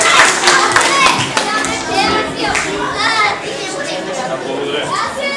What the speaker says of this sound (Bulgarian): Да чуя аплодисментите.